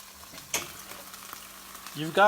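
Turkey green chili burger patties with cheese mixed in sizzle and crackle steadily on a grill, with a brief louder burst of frying partway through and some background sounds near the end.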